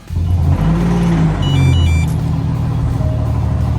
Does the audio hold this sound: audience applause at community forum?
no